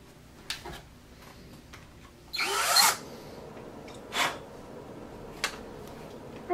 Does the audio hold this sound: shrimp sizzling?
no